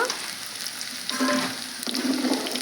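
Bitter gourd curry fries quietly in a pan, giving a soft, continuous sizzle with a couple of brief stirring scrapes and no talk.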